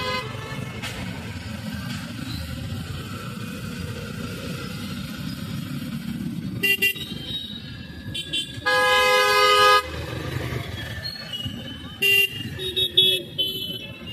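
Busy road traffic rumbles throughout, with several car horns honking in short bursts and one long sustained blast, close and loud.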